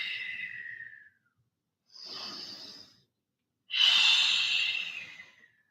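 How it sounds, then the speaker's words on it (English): Slow, deep yoga breaths: three long, close breathy airflows separated by short silences, the last one the loudest and longest. "Take 2 more breaths."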